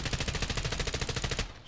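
An M4 rifle in a video game fires a fast, even burst aimed down the sights, each loud close shot sharply spaced, before it stops abruptly near the end.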